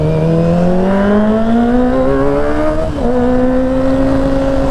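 A Kawasaki ZX-25RR 250cc motorcycle engine revs loudly and close by, its high whine rising smoothly, dipping briefly near the three-second mark, then settling at a steady high idle.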